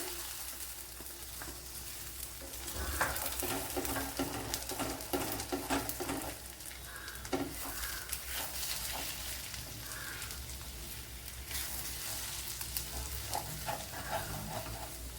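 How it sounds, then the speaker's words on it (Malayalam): Egg with ivy gourd frying in a steel pan, a steady broad sizzle running throughout with occasional scraping stir strokes, close and continuous, no talking. "ഇനി ഇതിലേക്ക് ഒരു മുട്ടയും കൂടെ ഒഴിച്ചു കൊടുക്കാം"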